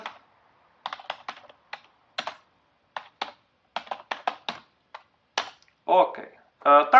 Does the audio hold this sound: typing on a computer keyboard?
yes